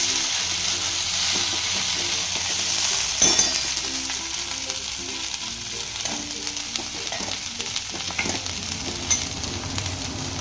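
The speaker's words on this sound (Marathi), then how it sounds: "फक्त मोठ्या गॅसवर तेलामध्ये फ्राय करत राहायची" Soy chunks frying in oil over a high gas flame, a steady loud sizzle with scraping spoon stirs and occasional clinks against the pan throughout.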